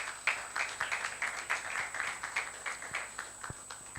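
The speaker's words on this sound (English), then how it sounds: "A round of applause for Ben, please." An audience at a CIPS Nigeria event claps for the speaker. The applause is steady and fairly faint, with distinct hand claps through the whole four seconds and no talking.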